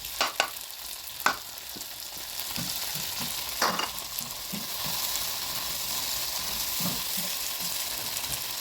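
Tomatoes fry in a pan alongside cow liver, producing a steady close sizzle with scattered scraping and stirring clatter from a utensil, and no voices.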